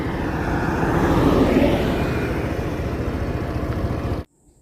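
A two-wheeler engine drones steadily while riding out toward an HP petrol station in Chidambaram, a loud continuous hum with wind rush, cutting off abruptly near the end.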